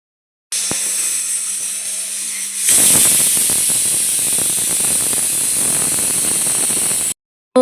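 A pressure cooker holding dal on the stove gives a soft hiss, then a loud, steady rush of escaping steam that runs for several seconds before cutting off abruptly.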